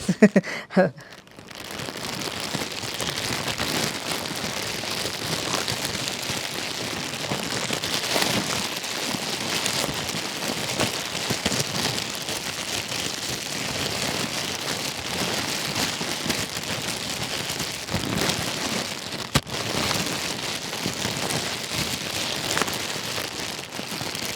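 Sugar poured or shaken to imitate rain gives a dense, steady pattering hiss like rain on a surface, sustained and loud for about twenty-four seconds after a brief rustle at the start, with no voices.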